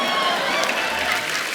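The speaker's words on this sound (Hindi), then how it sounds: "जोरदार तालियां इस दाल के लिए।" A studio audience at a Hindi comedy reality show claps together in a steady, dense wash of applause. It holds at an even level for the whole moment, and a voice sits faintly underneath.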